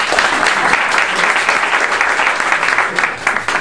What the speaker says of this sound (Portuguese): Vamos aplaudir Zeno Silveira!